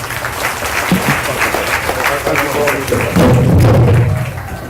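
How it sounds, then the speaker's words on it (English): At a graduation ceremony, an audience claps for a community service award, producing a full, sustained round of applause with thumps and crowd murmur that swells toward the end. "Another round of applause, ladies and gentlemen."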